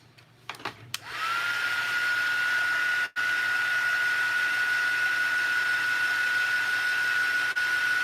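A hair dryer switches on after brief handling clicks and blows a steady loud whine with airy rush to dry freshly applied paint, holding constant with one brief dropout.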